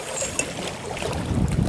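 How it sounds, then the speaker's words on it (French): Strong wind blows at a lakeside carp fishing spot, a steady roar of gusts buffeting the microphone, with rustling and lapping-like noise beneath and no talk. "Beaucoup de vent."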